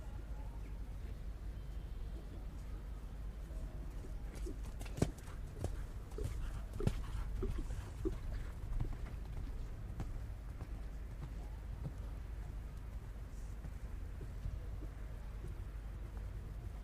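A horse canters a medium circle in a dressage arena at a junior eventing championship, its hoofbeats faint and distant under steady outdoor background noise, with a few sharper thuds.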